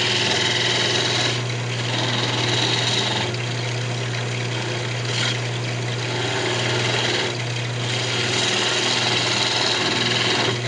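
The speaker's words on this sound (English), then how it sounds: "So I'm just gonna come in with just a square nose scraper." Wood lathe spinning a lamp blank while a square nose scraper cuts it, giving a steady loud motor hum under continuous rough scraping and hissing that stays unbroken throughout.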